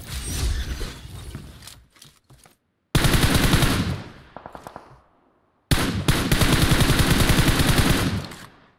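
Rapid automatic gunfire in a video game comes in three loud, dense bursts of fast repeated shots, separated by short gaps with scattered single cracks.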